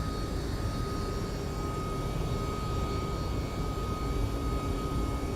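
An MD-11 airliner lands in the X-Plane 12 flight simulator, giving a steady, loud, broadband roar of aircraft engines and rushing air that holds unbroken throughout.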